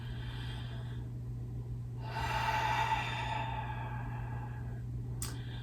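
A slow, deep inhale and long exhale at the start of a chair yoga session focused on the throat chakra, close and soft against a steady low hum, with a short sharp sniff near the end.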